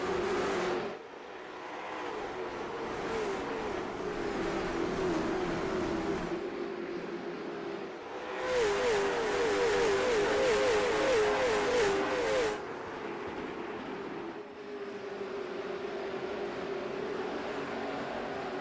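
Late model stock race cars in iRacing at Myrtle Beach Speedway rev and accelerate past, engines climbing in pitch through several loud sustained passes with brief dips between, no talking.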